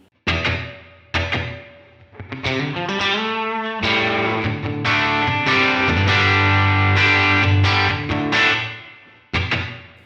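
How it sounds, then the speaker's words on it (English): Electric guitar played through the Line 6 HX Stomp Double Tank reverb set as a room reverb with decay lowered, mix at 50 and modulation off; loud, slightly driven chords and riffs ring out with a short roomy tail, pausing briefly near the end. "That's already a good sounding room reverb right there."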